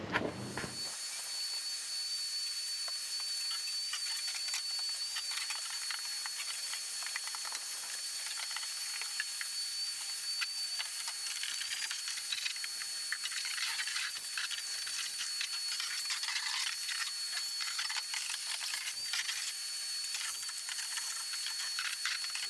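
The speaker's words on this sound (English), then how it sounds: "to get all these shavings vacuumed out of here, cleaned out of here" A vacuum sucks metal shavings out of a fuel tank: a loud, steady airy hiss runs for over twenty seconds, close and without pause or talk.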